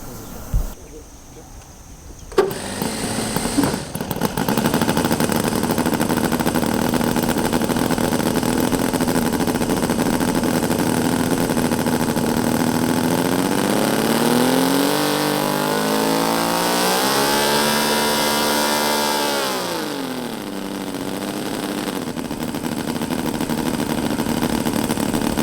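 Small-engine drone from a Balsa USA 1/4 scale Sopwith Pup model airplane, droning steadily at high power and then surging in pitch, swelling in pitch then settling, loud and close throughout after a brief quiet start.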